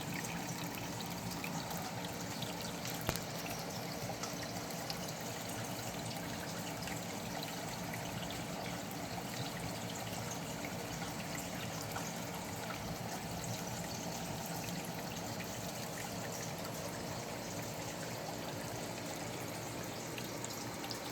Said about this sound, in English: It's just a pump pumping water up.